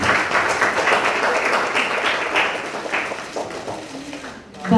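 An audience at an Indonesian political event for the 2024 East Java gubernatorial race claps for several seconds, fading gradually, with a voice speaking over the tail end.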